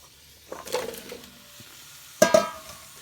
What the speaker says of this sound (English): Just give it a little stir here. It's not going to do much, but just kind of introduce the squash to the onions.